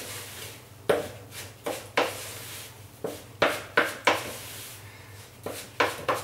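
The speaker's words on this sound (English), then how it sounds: "So let's mix those ingredients together, just the dry ingredients together." Dry coconut biscuit ingredients being stirred together in a bowl, with a string of sharp clinks and scrapes of a utensil against the bowl at an uneven rhythm, close and fairly loud, no talk.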